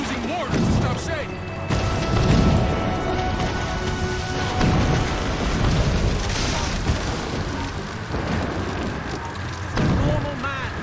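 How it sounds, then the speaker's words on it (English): Mortar fire in Assassin's Creed Rogue pounds out a series of loud, deep booming explosions roughly every second or two, crashing over a constant rumbling battle din, with a voice talking over parts of it. "Chevalier's using mortars to stop Shay."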